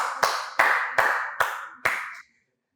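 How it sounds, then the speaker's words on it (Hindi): Five separate hand claps in a slow, even rhythm, each sharp and close with a short ringing decay, then silence. "तालियां होनी चाहिए।"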